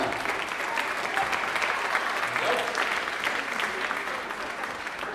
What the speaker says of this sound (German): Applaus für die Künstler heute Abend.